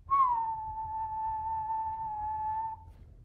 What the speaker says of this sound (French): c'est de siffler. Si je siffle